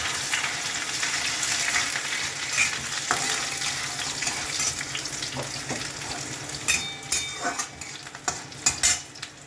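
Garlic fries in a pan over a full gas flame for spinach, giving a steady close sizzle. Stirring scrapes and light utensil clinks grow more frequent toward the end.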